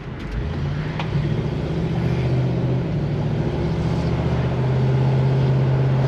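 A 1966 Chevy Nova with power steering, power brakes and air conditioning drives and turns around. Its engine gives a steady, close, low hum that builds slightly near the end, with no talking.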